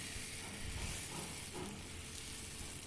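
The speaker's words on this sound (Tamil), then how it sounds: "தோசைக்கல் சூடானதும் இப்போ மாவை தோசை வார்த்துக்கலாம்." Adai dosa batter poured onto a hot griddle, giving a steady close sizzle and hiss that holds for about three seconds with no voices.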